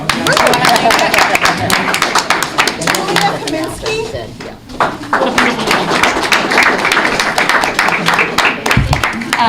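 Classroom audience claps hands in a dense, rapid patter of many sharp claps that runs nearly throughout, dipping briefly midway, with children's voices chattering underneath.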